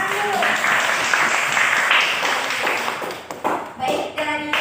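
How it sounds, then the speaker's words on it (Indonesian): A class of students in a madrasah classroom claps hands in a brisk burst of applause, tapering off near the end as voices start to come in. "tepuk tangan dulu"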